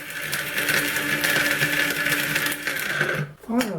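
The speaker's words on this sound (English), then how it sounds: "And grind until you have a fine powder." An electric spice grinder whirs steadily as it pulverizes cloves for mixed spice, a loud buzzing hum with rattling that holds for about three seconds before cutting off abruptly, followed by a brief voice.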